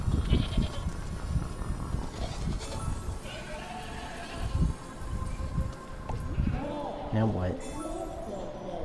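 A goat bleats in Plants vs. Zombies Battle for Neighborville, sounding in short wavering cries amid game noise, with a player talking over much of it.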